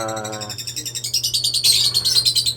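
Several birds chirp and tweet close by in quick repeated bursts, the calls growing brighter and busier, with a low steady hum underneath.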